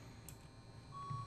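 Electronic beeping in the video game Get Even, a faint steady tone sounding near the end over a low hum, brief and quiet.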